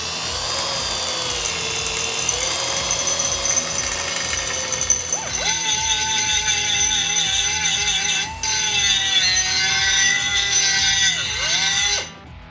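Power tool work on a cut race car frame, deburring and drilling for plug welds, gives a steady close whine that shifts pitch partway through and cuts off near the end, with no talk.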